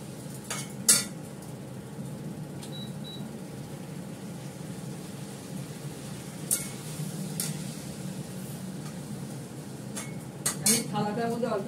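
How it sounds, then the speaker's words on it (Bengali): Meat and potatoes being stirred and fried in a pan with ginger, garlic and onion, quiet scraping and occasional utensil clinks over a low steady sizzle, close but soft. "এটা আবার কষতে থাকবে।"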